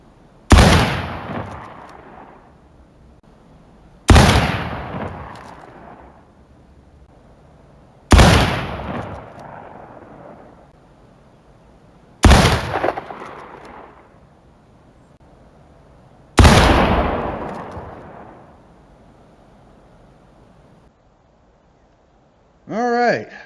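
A Pattern 1853 Enfield rifle fires in War of Rights: five loud, sharp shots spaced about four seconds apart, each ringing out into a long fading tail, then a short burst of speech at the end.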